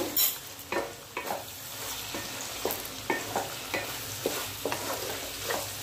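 Kitchen spoon scraping and stirring pasta with tomato sauce in a pan, a run of soft scrapes and clicks over a low steady sizzle, close and alone with no voices.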